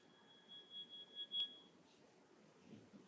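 Mobile phone alarm going off in a lecture audience, a faint steady electronic tone lasting over a second amid room noise and a distant voice.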